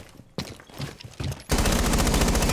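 Gunfire in the video game Rainbow Six Siege during a league match: a few scattered loud shots, then a dense, sustained burst of rapid automatic fire that fills the last second.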